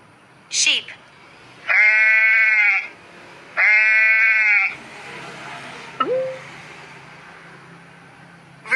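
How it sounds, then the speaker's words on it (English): A sheep bleats twice in long, steady, loud calls, with short faint cries before and after and a low hum of ambient noise underneath. "Sheep."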